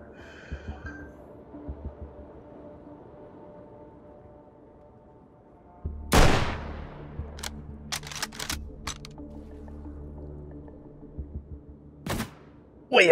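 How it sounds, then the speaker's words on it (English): Rifle fire from bipod-mounted sniping with a red dot sight in the VR shooter H3VR: a loud sharp report around the middle, a quick burst of several cracks after it, and another shot near the end, all over low game ambience. "I'm gonna try and do some bipodded sniping real quick with my red dot"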